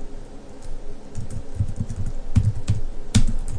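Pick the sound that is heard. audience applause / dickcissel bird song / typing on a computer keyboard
typing on a computer keyboard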